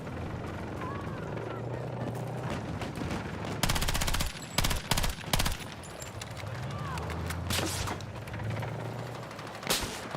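Gunfire in the first-person shooter Battlefield 6: loud bursts of automatic fire and single shots break through a constant helicopter drone. A player talks over the noise.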